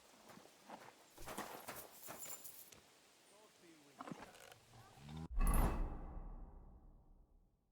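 Horse hooves clip-clop in Kingdom Come: Deliverance, mixed under speech with creaking mechanical noises, then a sudden heavy thud and rumble near the end.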